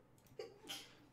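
A single quiet sneeze, a short voiced catch followed by a breathy burst, heard up close in an otherwise quiet room.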